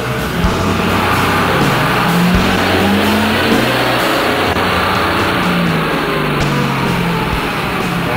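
A Ford F-450 pickup truck engine roars continuously at high revs in third gear on a dyno, loud and close, holding a heavy steady drone with slight pitch shifts throughout.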